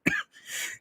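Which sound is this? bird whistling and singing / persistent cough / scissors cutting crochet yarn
persistent cough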